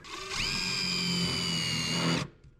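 A power drill driving a self-tapping screw, a close, loud whine that starts abruptly, holds steady at one pitch for about two seconds, then cuts off.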